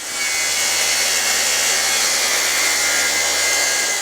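A saw rips wooden stock lengthwise for a coffee table top, a steady, loud, continuous rasping whine with no pauses and no talking.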